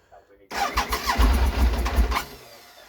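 A Triumph Trident motorcycle engine, unused for over two years, cranks and catches on choke, then runs rough and uneven for about two seconds, close and loud.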